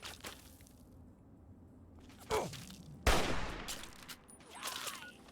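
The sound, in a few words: gunfire from video game Fallout 3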